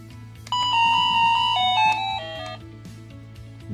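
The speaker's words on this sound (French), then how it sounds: "vous faire entendre les différentes sonneries que possède cette sonnette connectée" The DioBell BO-2+ connected doorbell plays a clear electronic chime, a few sustained descending tones that ring out for about two seconds and then fade into quiet background.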